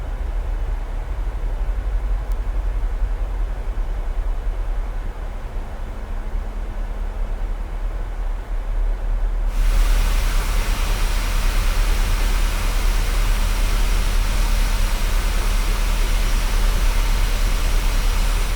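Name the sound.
CFM56 jet engines in Microsoft Flight Simulator video game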